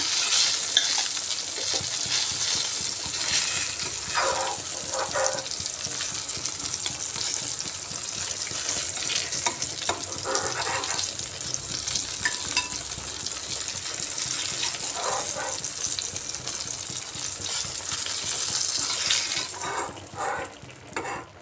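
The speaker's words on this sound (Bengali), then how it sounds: "এবার বাকি বেগুনগুলো ভেজে নিচ্ছি।" Eggplant pieces fry in a pan with a dense, steady sizzle and crackle, broken by periodic bursts of stirring, loud and close throughout with no voice.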